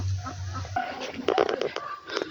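Ducks quacking and clucking close by in a cold farmyard, a dense run of short overlapping calls after a low hum, with a person's voice briefly mixed in.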